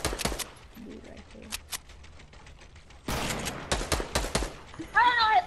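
Bursts of video game gunfire, several sharp shots early then a dense rapid volley in the second half, fairly close and loud, with a brief chirping sound at the end.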